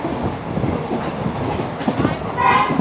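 Sri Lankan train travelling toward Kandy, a continuous close rolling rumble with clattering wheel beats, and a brief tonal horn-like blast near the end.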